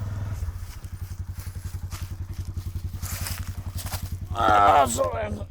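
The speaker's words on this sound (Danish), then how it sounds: "Og vi er ude med en lille motorsav." A small chainsaw idles and runs with a steady, rapid engine putter close by, then revs louder near the end as it starts cutting, with no talk over it.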